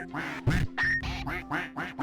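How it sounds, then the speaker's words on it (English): A duck quacking during a RimWorld stream: a quick, loud run of about six nasal quacks in a steady rhythm, close and clear. "Quack."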